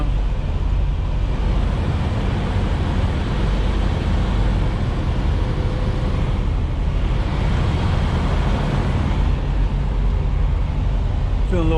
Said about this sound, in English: So, I am backing into my door right now.